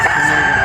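A rooster crows in a brief, loud, close call at a backyard poultry market in Tabunok, Talisay, Cebu.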